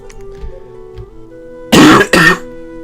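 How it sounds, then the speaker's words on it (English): Two close, loud coughs in quick succession right into a microphone, following a few faint clicks in an otherwise quiet room. "I'm sorry about the coughing"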